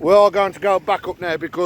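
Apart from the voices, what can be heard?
No everyday noise stands out behind the speech.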